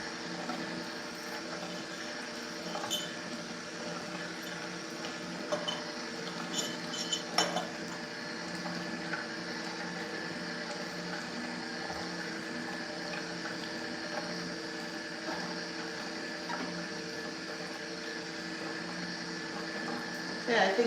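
Papaya pulp and juice pass through a Nama juicer, a steady liquid gurgle and motor drone with occasional clinks of glass or utensils nearby.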